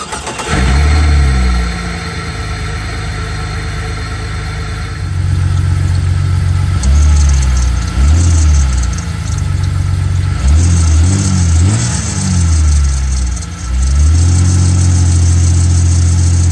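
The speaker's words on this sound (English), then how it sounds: "I'm gonna start the Jeep and we'll look for that smoking." A 2000 Jeep Cherokee engine, burning oil, cranks and starts, then idles with a low rumble before several rising revs surge and fall back, loud and close.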